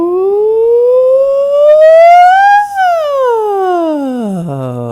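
A singing voice imitates a siren, gliding smoothly up from low to high and then sliding all the way down to the bottom of its range in one long, loud, continuous sweep during a vocal warm-up.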